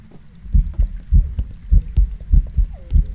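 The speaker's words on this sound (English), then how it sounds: "The heartbeat does sound loud." Loud, steady heartbeat thumps during a ghost hunt in the Phasmophobia video game, pulsing in a regular rhythm of about three beats per second, close and prominent with no talk over it.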